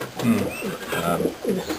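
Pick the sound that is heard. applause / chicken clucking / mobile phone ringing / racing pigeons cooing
racing pigeons cooing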